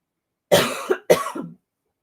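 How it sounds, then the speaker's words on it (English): Two short, sharp coughs in quick succession, close and fairly loud, with silence before and after. "Funny how I'm like coughing right when I do that."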